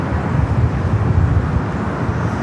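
Southwest Airlines Boeing 737-700 arriving at Los Angeles International Airport, a steady loud low roar of jet engines, fairly close and continuous, with wind buffeting and no voices.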